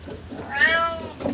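A cat running in an exercise wheel lets out a single clear, rising-and-falling meow over a soft background rumble.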